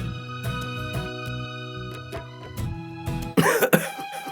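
A man coughs repeatedly in a dubbed film scene, a run of rough, close coughs and throat clearing that swell into a louder, harsher burst near the end.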